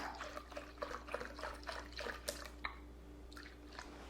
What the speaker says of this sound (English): I can just stand right here and pour my beef broth in